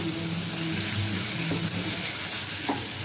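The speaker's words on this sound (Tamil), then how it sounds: "வெள்ளைப்பூடும் வெங்காயம் நல்லா வதங்கிடுச்சு" Steady crackling sizzle of garlic and onion frying in a hot pan, continuous and close, with faint stirring and no talking.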